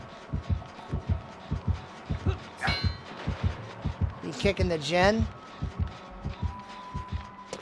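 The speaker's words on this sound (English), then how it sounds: "Heartbeat out here by me." Video game heartbeat sound, a steady low thumping pulse repeating throughout, with a player talking and other brief game clangs and tones over it.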